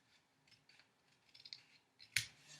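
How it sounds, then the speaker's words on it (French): Scissors snip through paper for a tiny accordion-fold scrapbook album, a few soft quiet cuts ending in one sharp, close, crisp snip, with no voice. "Je vais le couper légèrement"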